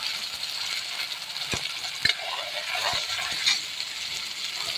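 Onion and chutney being sautéed in oil in a pan for a green rassa curry, a steady low sizzle with a few sharp clicks of a spoon scraping and stirring, close and fairly quiet, no voices.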